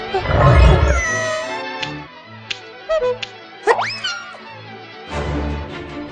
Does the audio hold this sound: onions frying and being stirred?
no